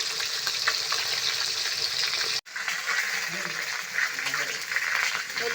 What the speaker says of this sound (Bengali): আবার কিছু মাছ দিয়ে দিয়েছি, আবার ওই একই রকমভাবে উল্টে পেল্টে ভেজে নেব।